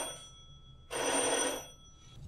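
A telephone bell rings once in a burst lasting about 0.7 seconds, sounded as a radio drama effect for an incoming call to a Murray Hill number, clear and fairly close against a quiet background with no talk.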